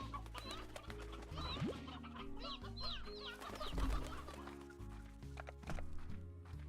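Chickens cluck and squawk in short bursts in the Slime Rancher video game, several birds at once over a steady layered musical background, all quite faint.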